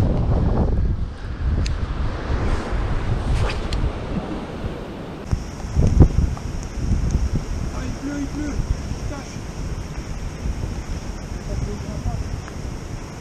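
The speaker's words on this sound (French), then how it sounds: "là il y a tellement de vent" Strong seaside wind roars against the microphone while fishing for mackerel with jigs, a loud, continuous buffeting rush with surf-like noise beneath.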